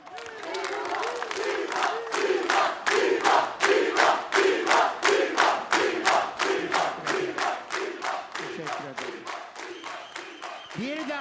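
A studio audience at a Turkish pop talent show chants a famous diva cheer, a loud, steady, rhythmic shout with evenly spaced beats repeating for about eleven seconds.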